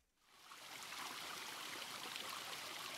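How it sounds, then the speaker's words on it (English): Soft, steady running water from a video game, rising in over the first second and then flowing evenly and gently with no talking. "Soft running water?"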